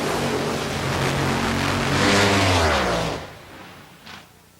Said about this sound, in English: This was Blaine Johnson's final ever ride.